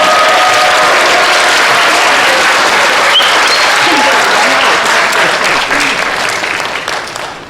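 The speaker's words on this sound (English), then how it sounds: "Please, one more round of applause, ladies and gentlemen." A graduation ceremony audience claps in a loud, thick wash of applause that holds steady, then gradually fades away over the last couple of seconds.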